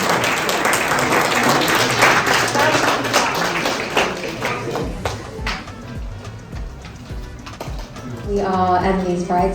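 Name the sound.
applause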